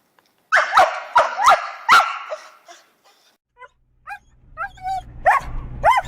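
Dogs bark sharply in a rapid run of loud, close yips, then switch to thin, high-pitched whines and cries over a low background hum.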